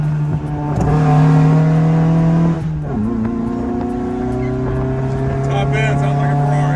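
A 1979 Fiat 124 Spider 2000 engine fed by dual Weber 44 IDF carburetors pulls hard under load, a loud steady drone with rising pitch, a brief dip as it shifts, then climbing again close-up inside the car.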